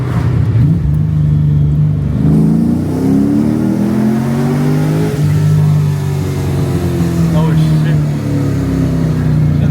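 An LS-swapped Nissan 240SX accelerates hard in traffic, its V8 note rising through the revs for nearly ten seconds, loud and close from inside the cabin, easing off briefly midway before climbing again.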